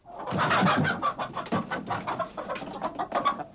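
Hens cluck in a quick, close burst of choppy calls and murmurs, lively and fairly loud with no talking.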